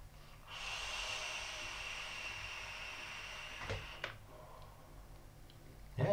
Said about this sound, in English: So let's give it a vape, see what it's like.